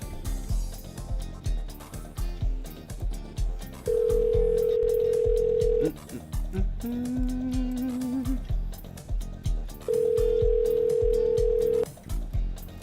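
Outgoing phone call ringback tones: two long steady electronic rings about two seconds each, separated by a pause, with a faint rising beep between them, heard over a busy background of music and noise.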